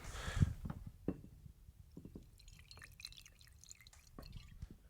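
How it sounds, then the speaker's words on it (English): 115-proof Death and Taxes barrel-pick select rye whiskey poured into a glass: a faint dribbling splash near the start, then light drips and a glassy clink or two in a quiet room. "So let's pour a little of this into your glass."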